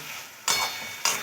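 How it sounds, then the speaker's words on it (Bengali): Fried pointed gourd being stirred into a spice masala in a pan: two short, close scraping swishes over a low background sizzle, with no talking. "এবার ভেজে রাখা পটলগুলো দিয়ে দেব। পটলগুলো দেওয়ার পরে 1 মিনিটের মতন একটু নাড়াচাড়া করে নেব"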